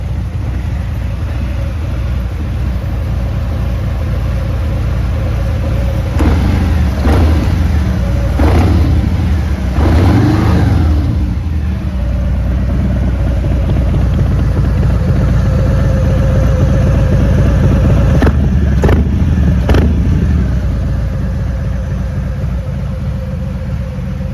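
A 2021 Harley-Davidson Fat Bob 114 motorcycle with a slip-on exhaust rumbles at a low idle, with a few short throttle blips standing out as louder bursts; steady and fairly close, with no talk.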